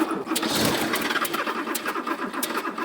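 An old barn-find classic Porsche 911 engine cranks and sputters in uneven, choppy bursts, coughing briefly to life close by, then stopping.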